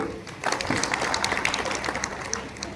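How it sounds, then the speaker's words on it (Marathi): An audience at a Marathi poetry event applauds a woman host and poet: a lively burst of many hands clapping together, with faint crowd murmur. "ताईसाठी एकदा टाळ्या वाजवूया"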